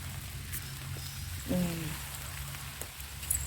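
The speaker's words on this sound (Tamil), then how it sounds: "மழை நல்லாவே வந்துடுச்சுங்க" Rain falls on a garden of rain lilies, a soft, steady patter of drops throughout, with a brief tonal sound partway through.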